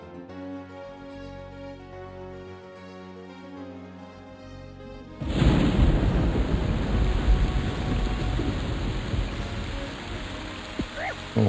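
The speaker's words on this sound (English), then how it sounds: "Oh, perfect. It's raining in the game." Steady rain falls in the EverQuest game world on the Project Quarm server, a loud, dense hiss that starts abruptly partway through after quieter tonal game music and then continues unbroken to the end.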